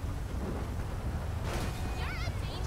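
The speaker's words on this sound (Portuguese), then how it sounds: "Começou a chover de novo, velho." Steady rain pours in GTA 5 during a heavy storm flooding Los Santos, with a rumble of thunder building midway. Brief whistling or chirping sounds rise over the downpour near the end.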